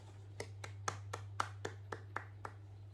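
A classroom gives a small, sparse round of clapping after a group presentation, about ten distinct claps spaced in a loose rhythm over a steady low hum.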